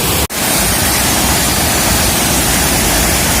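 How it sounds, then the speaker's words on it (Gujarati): Water pours over the edge of a new village lake at Ramdhari that has overflowed, making a loud, constant roaring rush close by, broken only by a very brief dropout near the start. "ખૂબ જ પાણીનો ઘૂઘવાટ થાય છે, અવાજ આવે છે જે મારો અવાજ પણ સંભળાતો નથી"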